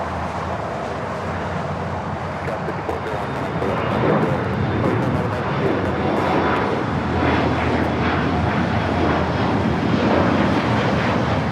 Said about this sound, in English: This is United Express 5401 taking off to Reading on the E175.